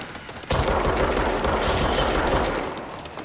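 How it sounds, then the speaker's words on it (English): Dense, sustained automatic gunfire roars from the video game Control, starting abruptly and holding as a loud continuous burst for nearly three seconds before easing off. "Someone's shooting at me."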